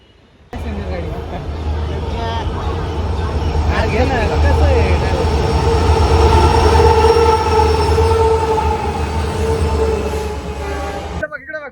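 A local train runs near Kasarwadi railway station in India with a loud, continuous rumble and wheel clatter, steady for most of the stretch, then cutting off abruptly at the end.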